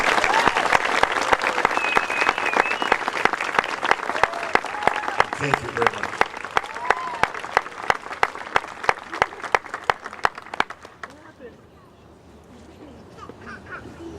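A graduation audience applauds the class of 2013, sustained loud clapping with sharp individual claps and some cheering, ending abruptly near the end before a quiet room and a brief spoken thank-you.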